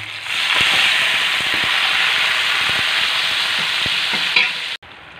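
Beef hits a hot pan and sautés with a loud, bright, steady sizzle, punctuated by sharp crackles and utensil taps, then cuts off abruptly near the end.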